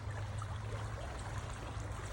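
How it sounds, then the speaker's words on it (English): A small creek flows steadily nearby outdoors, a continuous soft trickle and burble of water with no voices over it. "I am out in nature, just enjoying myself next to this little creek here."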